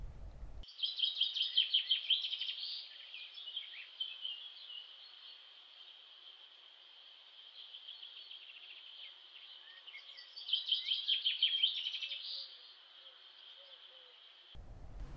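Small birds chirp and twitter in close, bright bursts that swell at the start and again near the end, with quieter scattered calls and a faint insect-like hum in between; no talking.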